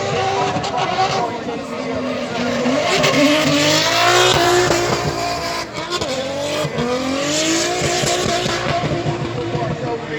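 A Nissan S15 drift car slides hard and fast at Mondello Park during an Irish Drift Masters event, its engine roaring and tires squealing loudly and continuously beneath an excited commentator's voice and crowd noise.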